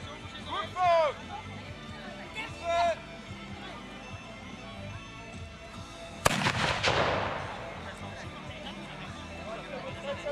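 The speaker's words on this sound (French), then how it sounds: "Bien changer la culasse. Laisse avancer. Coup de feu." Voices call out, then a single booming shot from a breech-loading cannon at a medieval festival cracks out and rumbles away.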